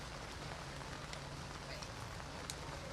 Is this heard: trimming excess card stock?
no